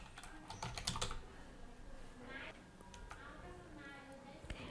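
Computer keyboard typing as a song search is entered: quick, close clusters of key clicks, dense at first and then sparser, quiet and alone with no talking.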